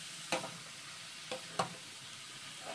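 Grated carrot fries in a pan for carrot halwa, a soft continuous sizzle broken by three or four sharp scraping stirs of a spoon.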